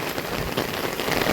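Heavy rain falling in Europe, a dense steady hiss of drops striking surfaces, loud and continuous from start to finish with no voices.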